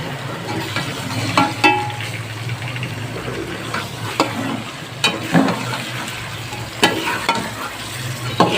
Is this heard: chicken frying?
yes